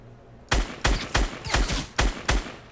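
Six sharp, loud gunshots in a video game ring out in a fairly steady rhythm, each a hard crack with a short tail, after a brief quiet lead-in and with no talking.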